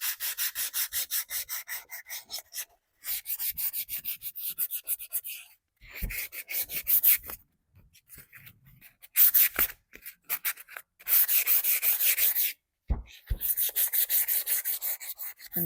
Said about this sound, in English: So now we're going to take some 220 sandpaper and I'm just going to give him some more age.